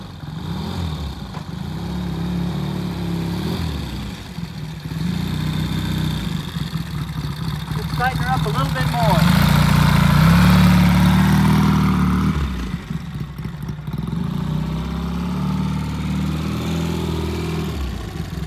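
A Triumph TR6 motorcycle engine on a test drive, a steady mid-pitched drone that swells louder as the bike passes close by mid-way, then fades back to a distant hum.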